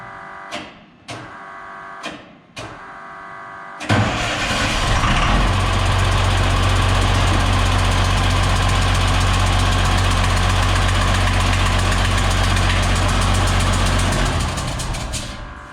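Diesel engine with a newly installed P7100 injection pump cranks in several short bursts, then catches and runs at a loud, steady, rumbling idle with a knocking clatter, close by and without talk.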